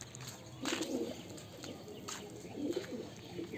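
Pigeons coo in soft, low, throaty bursts, several calls spread across a few seconds close by, with faint rustling between them.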